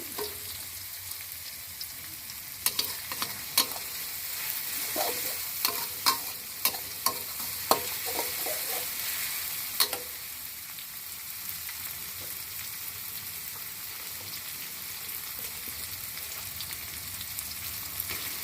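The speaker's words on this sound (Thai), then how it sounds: "ผัดให้พริกกระเทียมสุกสีเหลืองน่ารับประทาน" Chili and garlic stir-fry in a hot pan for holy basil pork and squid, a steady sizzle broken by a run of scraping and stirring knocks, then settling into an even, continuous fry.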